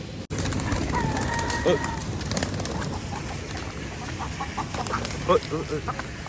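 Chickens cluck and squawk a few times nearby in a mini zoo amid outdoor rustling and background noise, with occasional talking.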